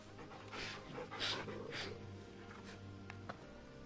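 A dog in the video game Final Fantasy 16 pants softly while being petted, giving rhythmic breathy huffs in a quiet, close scene with a faint background hum.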